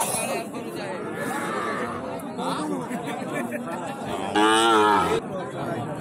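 Cattle at a busy rural livestock market low and moo repeatedly, with one loud, drawn-out bellow close by near the end, over a constant murmur of crowd chatter and nearby talk.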